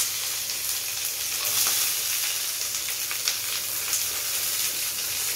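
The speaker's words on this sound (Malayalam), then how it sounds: "കടുക് പൊട്ടിച്ചു." Mustard seeds spluttering in hot oil for a tempering, a loud dense crackle and hiss with scattered sharp pops throughout, close and continuous.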